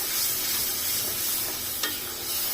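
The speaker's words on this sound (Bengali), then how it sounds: "এখন সবগুলো ভালো করে কষাই নিব।" Beef tripe curry with ground spices and garam masala being sautéed in a pan, giving a steady sizzling hiss with stirring throughout and one brief scrape near the end.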